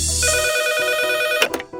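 A telephone rings close by with a loud, steady electronic tone that cuts off abruptly into a few clicks as it is answered, with no talk.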